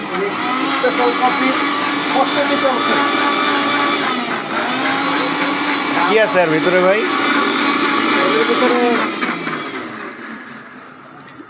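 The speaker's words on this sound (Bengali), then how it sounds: "মালাই ব্লেন্ডার করে সেটা তারপরে দেওয়া হলো কফি হবে।" A blender whirs steadily and loudly, blending malai (cream) for a special coffee at a tea and food stall, with stall chatter and a voice over the motor hum.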